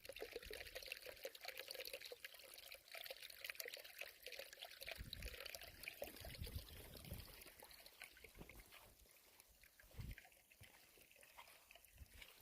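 River water rushes and trickles continuously, a close, bubbling flow with a few heavier splashes along the way.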